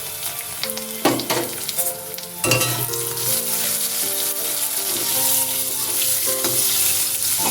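Chopped tomato goes into a hot frying pan of spiced oil for a papaya, potato and prawn curry, setting off a steady close sizzle with a few louder bursts and stirring clinks.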